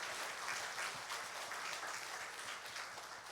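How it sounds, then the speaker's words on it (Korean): A church congregation claps during a Sunday worship service, a soft, even patter of applause heard fairly distant and continuous throughout. "하나님께 박수로 영광 돌리겠습니다"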